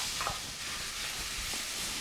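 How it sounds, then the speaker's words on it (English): Vegetables being stirred in a hot pan while cooking carne asada quesadillas give off a faint, steady sizzling hiss with a few soft scrapes, and no voices. "I'm just going to stir up our veggies."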